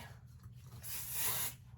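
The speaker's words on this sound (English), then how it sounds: "Then a little spray." A short, soft hiss of hairspray lasts under a second, close by, with quiet handling noises around it while styling an updo.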